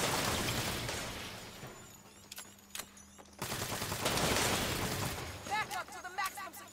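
Video game gunfire in Saints Row during a prison break mission, with bursts of rapid shots and booms scattered through busy game sounds and electronic chirps, moderately loud.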